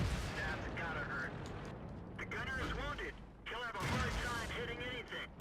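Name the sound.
VK tank firing its cannon in World of Tanks video game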